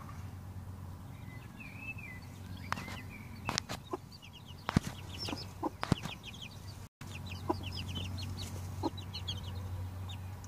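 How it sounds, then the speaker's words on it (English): Chickens and chicks on a homestead farm cluck and peep in scattered bursts against a low steady background hum, fairly faint and with no talking. "Chickens being naughty"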